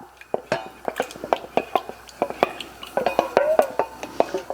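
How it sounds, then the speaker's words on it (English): Spoon scrapes and clinks rapidly against a bowl as something thick is stirred, a busy series of close, uneven taps and scrapes. "I'm going to stir this together really well and make a paste"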